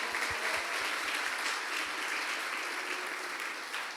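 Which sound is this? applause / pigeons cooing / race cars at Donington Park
applause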